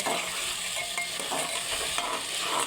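Masoor dal being stir-fried in a pan for dhaba-style ghugni, a continuous dense sizzle with faint intermittent scrapes of a spatula, steady and close without speech.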